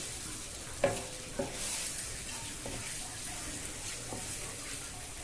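Roasted ground coriander powder is stirred in a pan, giving a soft steady sizzle with a few sharp clinks of the spoon against the pan, faint and close.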